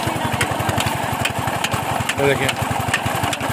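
An engine-driven sugarcane crusher runs at a steady, rapid thumping idle while sugarcane is fed in, loud and continuous, with a voice speaking over it.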